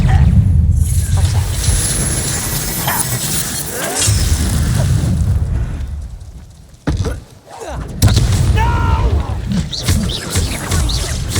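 Magic duel in the Hogwarts Legacy video game, with loud booming Expelliarmus spell blasts and crackling impacts filling the scene, a brief drop near the middle, and voices speaking over the combat.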